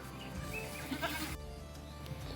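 A hermaphrodite goat on a goat farm bleats once, loud and close, with a wavering cry in the middle of the clip over steady background noise.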